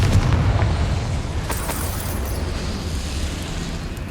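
A Confringo fire-blast spell bursts in Hogwarts Legacy with a loud, boomy explosion at the start that rolls off into a long rumbling decay, with no one talking.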